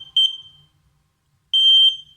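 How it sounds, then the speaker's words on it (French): Arduino buzzer beeping on and off, a loud piercing electronic tone sounding briefly, cutting out for about a second of silence, then sounding again, close and alone. "le buzzer sonne pendant 1 seconde et ça s'éteint pendant 1 seconde"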